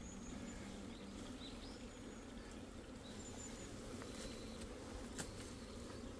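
Asian giant hornets raid a honeybee hive, a steady close insect buzz and hum filling the scene without pause, with faint high chirps above it and no talk.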